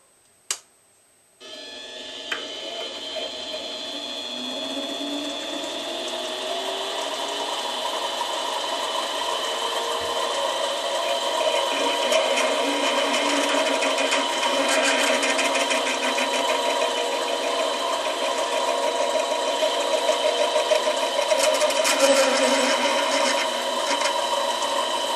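A lathe starts up and runs steadily while an airgun valve from a Crosman 22xx is being modified, giving a continuous close machine whine with a rattling, ticking texture throughout and no talking.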